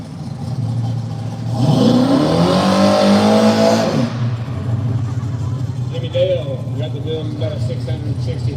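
A Mustang drag car revs loudly at the start line for about two seconds, then settles to a rough idle, with other engines running in the background.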